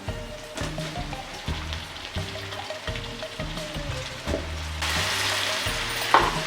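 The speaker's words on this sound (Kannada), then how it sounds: "ಈಗ ಬದನೆಕಾಯಿ ಕೂಡ ಚೆನ್ನಾಗಿ ಎಣ್ಣೆಲಿ ಮಿಕ್ಸ್ ಆಗೋ ರೀತಿ ಹುರ್ಕೊಳ್ಳೋಣ" Eggplant is stir-fried in oil for vangi bath with a crackling sizzle, under repeated low scraping strokes of a spatula in the pan. The hiss grows brighter and denser toward the end.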